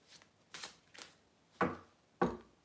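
A deck of playing cards is shuffled close by: five quick papery riffles and snaps, the last two sharper and louder, with no talking.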